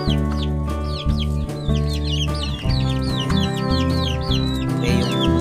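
Belgian pigeons or fowl in a coop give off repeated clucking and cooing calls, close and steady throughout, over a constant low background hum, with no speech.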